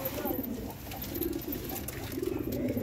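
Newly acquired pet pigeons coo softly and steadily in a low, continuous murmur with faint background noise.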